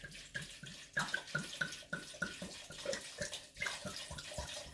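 A whole bottle of burgundy wine glugging steadily into a dish for beef bourguignon, with a regular rhythm of gulping pours from the bottle neck, close and moderately loud, with no talking.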